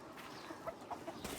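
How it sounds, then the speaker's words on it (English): Rooster on a family farm in Mexico, clucking softly in a few short, quiet calls at moderate distance with light background noise. "I had to call Chico over here because I'm scared of the rooster."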